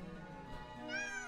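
A person imitates a cat, voicing a drawn-out meow with rising, whiny pitch that grows louder and brighter toward the end, close and alone.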